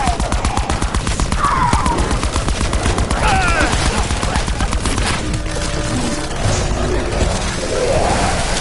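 Rapid automatic gunfire rattles without pause in Call of Duty Black Ops, loud and close, with a few scattered other sounds over the steady burst of shots.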